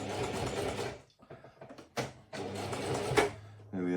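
A sewing machine run by foot pedal stitches brim trim onto a fur felt hat, its rapid mechanical whirr running in close, loud bursts with a short pause and a restart near the end, while a voice talks at times.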